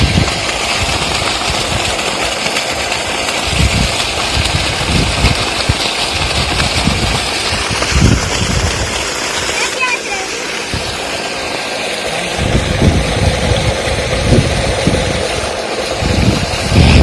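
3 HP DC solar water pump motor running steadily, a continuous mechanical hum and whir with some rattling, close and fairly loud throughout without pause.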